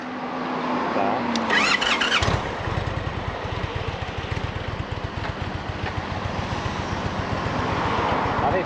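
A motorcycle engine with a stuck throttle revs loud and sustained after a brief starting burst, holding a high steady roar nearby as voices talk over it.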